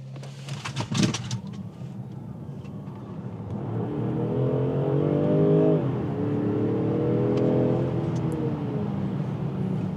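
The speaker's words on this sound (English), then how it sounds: "the engine kicked in because I really pressed the pedal, and it just kind of started revving up right there" The engine of a 2025 Land Rover Range Rover Sport Dynamic SE PHEV plug-in hybrid kicks in under hard acceleration and revs up steadily. Heard from inside the cabin, it rises to a strong, sustained drone with a shifting pitch.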